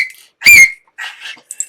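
A sharp, shrill whistle blast, loud and close, followed by a couple of fainter, shorter toots.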